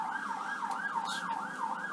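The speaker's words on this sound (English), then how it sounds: "Sorry, got distracted by the siren." An emergency vehicle siren wailing outside, a rapid rising and falling yelp cycling steadily at moderate distance, with faint traffic beneath and no one talking.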